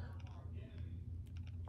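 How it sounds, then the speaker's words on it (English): Soft, quick keyboard taps typed on a Nintendo DS, scattered clicks under a low steady hum, faint and close. "let me try typing it again"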